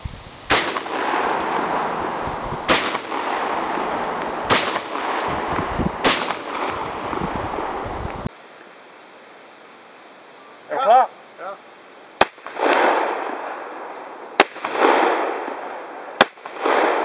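Several loud, sharp 12-gauge shotgun blasts firing 34-gram Saga hollow point slugs ring out at irregular intervals, each followed by a brief rumbling echo, with a short spoken exchange in between.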